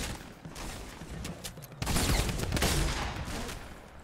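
A rattling burst of Fortnite gunfire, a fusillade of overlapping shots, starts sparse and then swells into a louder, denser volley partway through, with no voices heard.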